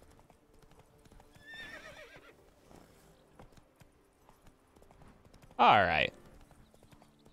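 Hooves clop at a steady pace, then a horse lets out a loud, close whinny in the video game The Witcher 3; someone speaks briefly early on.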